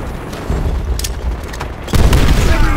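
A grenade explosion in Call of Duty: World at War. A heavy, deep boom bursts out of a constant roar of battlefield gunfire and rumble, loud and close.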